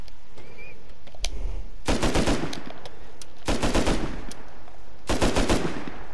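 Three long bursts of rapid automatic gunfire from a video game, loud and close, separated by short pauses with a few scattered single shots in between.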